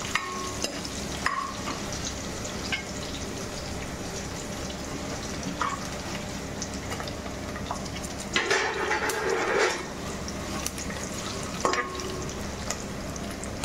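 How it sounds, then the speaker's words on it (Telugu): Spices for pepper rasam frying in a pan, with a steady close sizzle throughout, broken by occasional clinks of utensils and a short burst of stirring or scraping near the end. "ఇది కొంచెం దోరగా వేగాలండి"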